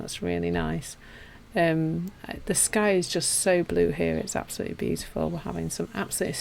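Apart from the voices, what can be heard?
No everyday noises stand out.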